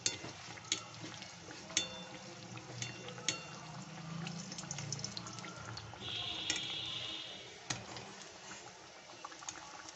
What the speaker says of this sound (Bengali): লালচে করে ভেজে নিচ্ছি, ভেজে তুলে নেব।